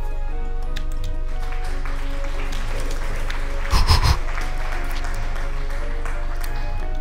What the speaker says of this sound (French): Merci pour les applaudissements.